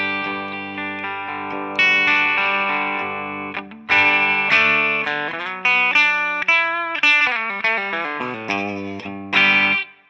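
Electric guitar through a Brit 800 amp tone model on its cleanest setting, recorded via a Custom 90 speaker and Beyer M160 ribbon mic; a series of bright, ringing chords and notes struck one after another, loud and close, each decaying before the next.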